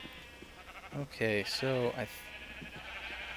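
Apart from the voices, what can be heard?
sheep bleating in Minecraft, a video game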